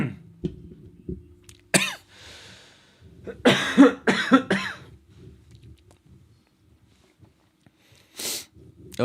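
Several harsh coughs and throat-clearing bursts, close to the mic, scattered irregularly over a low background rumble.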